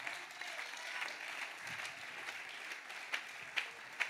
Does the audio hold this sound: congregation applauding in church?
yes